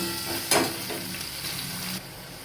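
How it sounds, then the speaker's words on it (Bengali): Boiled potatoes frying in oil already used for eggplant, a close, steady crackling sizzle with a brief louder burst early on and a slight drop in level near the end. "ওই একই তেলে আমি সেদ্ধ করা আলুগুলো ভালো করে ভেজে নিচ্ছি।"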